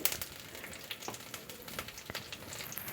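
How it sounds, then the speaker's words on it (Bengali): Panch phoron spices fry quietly in hot oil for a cabbage dish, giving a faint, steady crackling sizzle with a few sharper pops and no voices. "এটাকে আমি একটু ভেজে নিচ্ছি"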